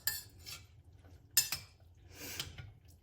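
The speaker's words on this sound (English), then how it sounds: "stir this, let it melt up a little bit before I put the chorizo in" A spoon scrapes and clinks against a pot while rotel dip is stirred and left to melt, with a few sharp metal taps and soft scraping strokes over a low background hum.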